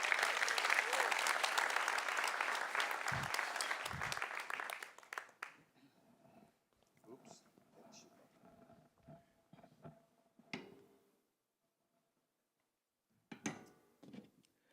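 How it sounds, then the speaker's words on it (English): An audience claps in a dense burst of applause for around five seconds at a Top Dutch Solar Racing team car reveal, then fades out to scattered clatter and quiet room sounds. "A big applause for Erik Westerhof."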